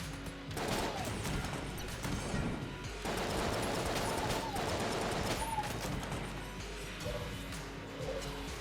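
Rapid gunfire from the triple gun in the game Enter the Gungeon, a dense stream of overlapping shots and impacts that keeps going nearly the whole time with a few brief pauses, while someone talks faintly over it.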